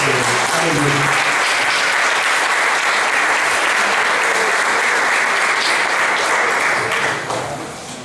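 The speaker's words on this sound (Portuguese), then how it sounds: "Dê uma aplauso ao Senhor." A church congregation breaks into loud, dense applause for the Lord, steady clapping throughout with faint voices underneath, fading slightly near the end.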